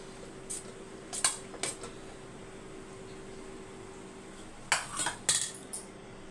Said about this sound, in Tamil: இப்போ சாதத்தை மிக்ஸ் பண்ணிக்கலாம்.